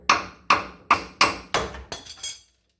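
Six sharp metallic hammer taps on the side of a Harbor Freight tie rod puller, used while removing the power steering gear from a 1987-91 Ford F-150. The evenly spaced, close, ringing strikes grow softer toward the end.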